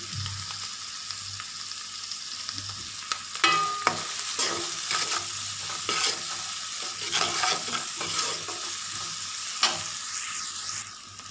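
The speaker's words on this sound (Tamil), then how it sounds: "இது நல்லா வதங்கட்டும்." Onions and vegetables salted and sautéed in a pan for veg noodles make a low, steady sizzle under repeated spatula scrapes and stirring strokes, close and moderately loud.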